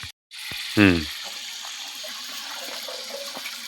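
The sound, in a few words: water running while washing chopped mixed vegetables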